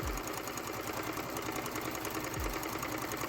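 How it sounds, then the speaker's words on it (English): Sewing machine running steadily as it sews two rows of gathering basting stitches on bodice pieces, a continuous close whirring hum with a soft rhythmic needle patter. "it's time to sew 2 rows of gathering basting stitches on the bodice pieces"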